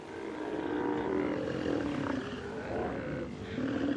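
A crowd of male Steller sea lions on an Alaskan coastline during breeding season, roaring and barking over one another in a continuous, dense, rumbling chorus, fairly close and loud throughout.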